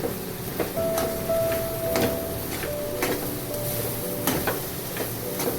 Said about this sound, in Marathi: आता मसाला चांगला परतून घेऊ